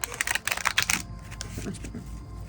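A quick burst of crisp, rapid tarot card riffling for about a second, then settling into softer handling sounds and faint room noise.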